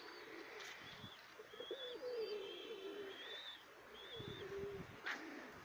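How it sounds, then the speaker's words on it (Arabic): Released domestic pigeons coo and call outdoors, soft rolling coos and thin chirps at moderate distance, with a couple of brief wing flaps or rustles amid quiet background noise. "المهم حنا راه طلقنا الحميمات ديالنا دابا كاملين اخوتي"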